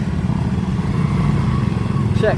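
Low motorcycle engines idle and rumble close by in a line of bikes waiting at a checkpoint on a trail ride, with people talking over the steady drone.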